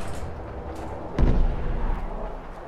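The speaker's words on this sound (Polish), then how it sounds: "Czemu tam coś wybucha?" A single booming explosion in the video game Fallout 4 thuds out of a quiet ambient background, its low rumble fading over about a second.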